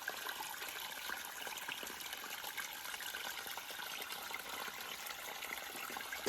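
Babbling stream along the Appalachian Trail, heard as a steady, fairly faint wash of rushing and trickling water with no pauses and no voices.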